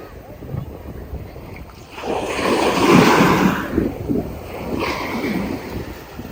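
Surf at Ras Tanura Beach in Saudi Arabia washes in and breaks near the shore over wind buffeting the microphone, with people talking faintly nearby.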